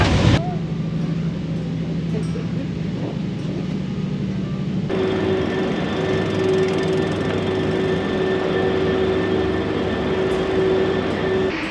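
Steady rumble and hum inside a sleeper train travelling overnight to Inverness, continuous and fairly loud throughout, with a sustained tonal whine joining partway through as the carriage rolls on.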